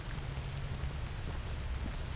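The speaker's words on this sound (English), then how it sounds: "As you can see, today is rainy" Rain falling in a quiet park on a wet September day, a steady close patter and hiss over a low rumbling background, with no voices.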